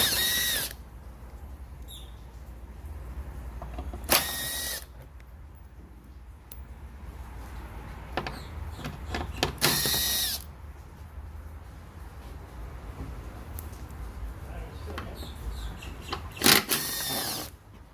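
A power tool working a 10 millimeter bolt on a Nissan Sentra, with four short, loud whirring bursts spaced a few seconds apart and quieter clicks and handling noises between them.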